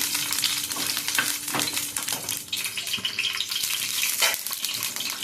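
Grated coconut fries in a pan while being stirred, a steady close sizzle broken by scraping strokes and light clinks of the spoon, with no voices.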